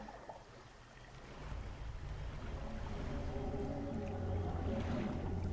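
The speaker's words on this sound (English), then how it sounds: "That bubbling sound, that like rumble from the deep, that's not just from the mangrove section." A deep, swelling rumble with bubbling undertones rises out of the water near a mangrove area in the fishing game Dredge, growing louder and then holding steady as a heavy, close drone.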